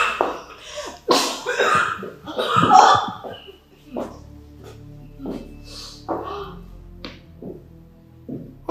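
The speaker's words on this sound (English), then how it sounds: "Why will she suddenly start to cough like this?" A woman coughs in sharp, uneven bursts in a Nigerian drama scene, with other voices and vocal sounds mixed in close by.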